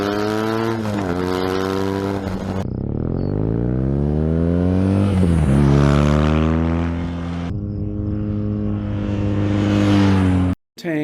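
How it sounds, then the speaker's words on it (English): A BMW R nineT motorcycle with its stock exhaust revs repeatedly, its loud boxer-twin note sweeping up and falling back in several long pulls before cutting off abruptly at the end. "I'll play you a little clip of the stock exhaust."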